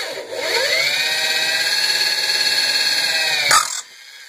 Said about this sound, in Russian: сверлим 5 отверстий